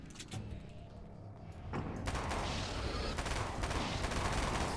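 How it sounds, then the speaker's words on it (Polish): Bursts of gunfire ring out in Alan Wake's American Nightmare, a dense rapid rattle of shots that starts after a quieter opening and keeps up loud and continuous, with faint talk beneath. "Strzelamy tak do nich seriami."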